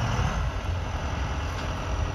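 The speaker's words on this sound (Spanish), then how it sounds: "así con el tractor, con la palita y este pico." Farm tractor idling while hay bales are loaded onto a truck, a steady, loud low-pitched engine rumble with no talk.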